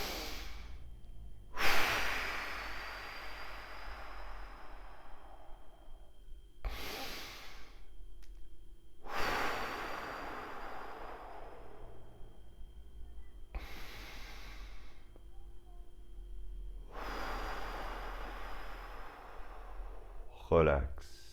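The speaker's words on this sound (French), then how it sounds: "3 grandes respirations." Three slow, deep breaths taken by a person seated on a chair during a relaxation exercise, each a long airy inhale and exhale, close and clearly audible, separated by quiet pauses.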